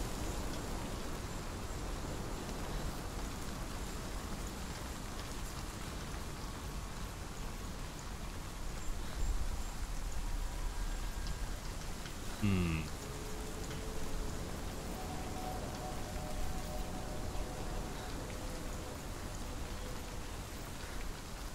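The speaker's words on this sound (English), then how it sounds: "Some rain ASMR though." Rain falls in the video game Hellblade: Senua's Sacrifice as a steady, soft hiss of drops spread across surfaces, with a brief tonal sound rising through it midway.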